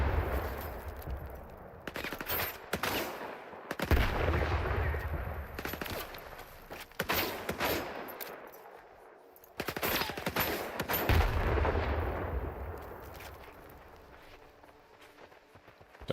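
Bursts of automatic gunfire crackle in S.T.A.L.K.E.R. 2, several rapid volleys separated by brief lulls, with footsteps and some faint clatter between shots.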